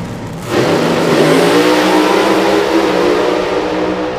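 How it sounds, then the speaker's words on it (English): Two drag racing cars, a blue Camaro and a red car, launch side by side down the strip, their engines jumping to a loud, sustained roar after a brief quieter idle and holding steady as they accelerate away. "the red car and the blue car having a race"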